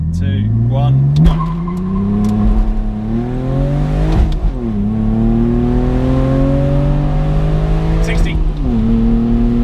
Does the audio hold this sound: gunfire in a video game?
no